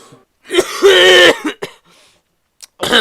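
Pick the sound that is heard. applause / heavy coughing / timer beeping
heavy coughing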